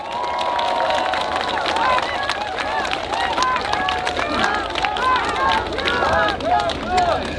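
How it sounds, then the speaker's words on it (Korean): Outdoor crowd at a Busan election rally cheering and clapping in a dense, continuous roar, with many excited voices and shouts layered throughout. "격려의 박수 한번 부탁드립니다"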